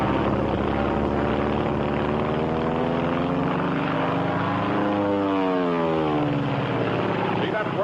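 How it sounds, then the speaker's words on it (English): A WWII Japanese Zero fighter plane climbs, its propeller engine droning loud and steady with a harmonic whine that sweeps in pitch as it moves overhead, continuous throughout. "See that plane? Climbing to heaven like a skyrocket?"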